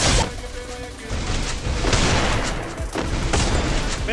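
Woodpecker rifle fire in the Garena Free Fire battle game, a few heavy booming shots spaced across a few seconds, loud and close over continuous game noise.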